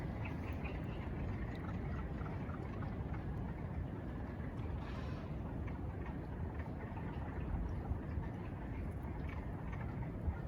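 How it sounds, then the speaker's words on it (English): A dense chorus of wood frogs calling continuously, clucking, duck-like croaks overlapping throughout. "These are the calls of wood frogs."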